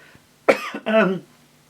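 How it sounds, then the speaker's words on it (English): A single close, throaty cough in two harsh bursts, fairly loud against near silence. "I'm going to have a cough."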